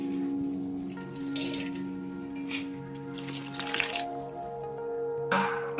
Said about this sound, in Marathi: अशा प्रकारे आता पाणी टाकलं